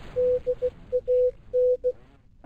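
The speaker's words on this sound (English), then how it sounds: "Oh, you hear that very faint Morse code there?" Faint Morse code beeping from a radio in the video game Plane Mechanic Simulator, a steady tone keyed in short and long pulses over a quiet background.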